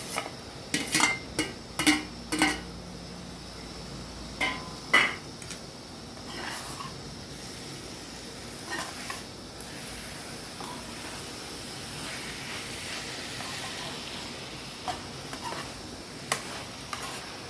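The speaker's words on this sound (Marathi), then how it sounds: "आता मी याच्यामध्ये आलू घालून घेणार आहे।" Potatoes going into a pan of Maharashtrian chawdichi bhaji made with red chillies: a cluster of clanks and scrapes at first, then quieter intermittent stirring over a soft steady hiss, with no talk.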